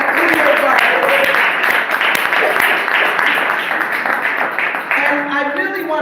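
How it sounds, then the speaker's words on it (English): An audience at a college event claps for a speaker in a steady, full round of applause with crisp individual claps. A few voices talk over it near the end. "Another clap for Cleo Barber."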